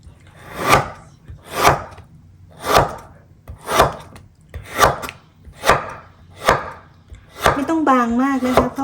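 Bamboo shoots sliced with a knife on a cutting board: eight steady, evenly spaced chopping strokes, close and crisp, then a voice begins speaking at the end.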